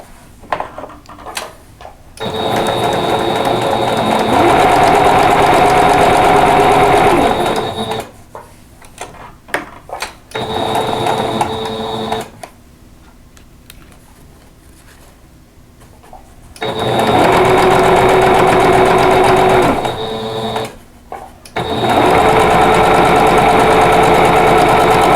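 A sewing machine stitches quilt block pieces for a tulip flower block in long steady bursts of rapid mechanical whirring, stopping and restarting several times, loud and close with no talk.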